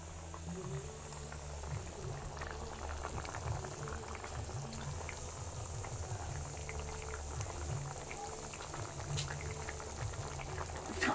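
Egg and tomato chutney with onion, mustard seeds and oil bubbles at a steady boil in a pot, a continuous close, even simmering rumble with occasional pops, outdoors in a village kitchen on a cold day.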